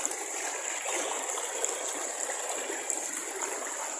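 Water flowing steadily through a stream in the Todgha Gorge, a continuous bright rushing hiss with light gurgles, close and fairly loud, and no voices over it.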